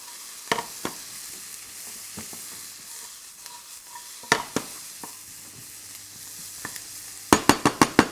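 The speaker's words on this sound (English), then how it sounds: "onions are just starting to take a bit of colour now, so in goes my pepper" Onions and pepper stir-frying in a wok in a Chinese takeaway kitchen, with a steady sizzle broken by scattered clanks and scrapes of the utensil, and a quick run of sharp metallic knocks near the end.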